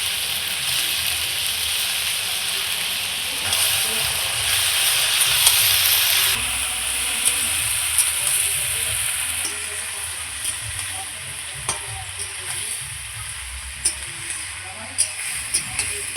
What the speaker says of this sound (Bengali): আমি হেলাঞ্চাটা খুব সুন্দর করে ভেজে নিয়েছি